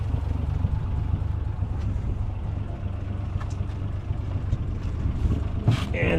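A 1960 Plymouth engine idles steadily while warming up, a constant low rumble with wind noise over the microphone and no break in the drone.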